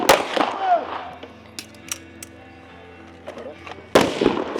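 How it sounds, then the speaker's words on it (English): Pistol shots on a competition shooting stage at a regional match, heard as a burst of sharp pops early, scattered cracks through the middle and another loud shot near the end, with a person talking over them. "Jordan is shooting better than MK, at least on the pistol"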